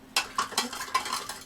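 A spoon stirs food from a US military MRE ration pouch, giving a string of soft scraping, clinking strokes at an uneven rhythm, close and quiet, with no talk.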